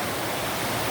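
River water rushes in a steady, dense broadband wash at a bush river, close and fairly loud, with no break or talk over the short stretch.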